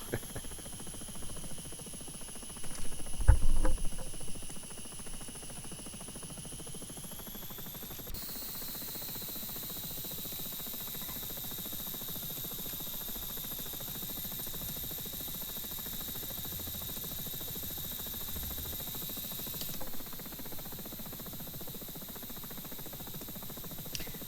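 A steady, even helicopter engine whine in the flight simulator X-Plane 11, with a constant high tone holding throughout, briefly interrupted by a low thump early on.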